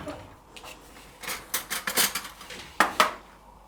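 A spoon works through minced meat filling in a bowl, giving a series of close, soft clinks and scrapes in an uneven rhythm, with quiet pauses between strokes.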